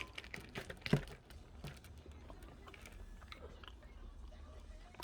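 Quiet close-up chewing of seafood during a mukbang, wet crunchy bites and mouth sounds in an irregular rhythm, with one sharper bite near the start and softer mastication afterward, and no talking.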